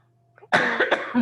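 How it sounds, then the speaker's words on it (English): A single sharp, close cough bursting out after near-silence, with a rough, throaty tail trailing off. "I was just coughing"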